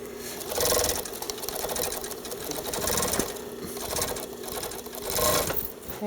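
A sewing machine stitches through denim while making jeans, running in a loud, steady fast whir with brief surges and slowdowns, alone and close.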